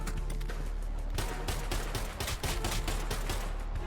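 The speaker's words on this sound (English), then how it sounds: "Once I heard those gunshots, I knew I had to jump in on this fight." Rapid bursts of gunfire fill a VR battle royale firefight, dense overlapping shots cracking loudly with no pauses, like several weapons firing at close range.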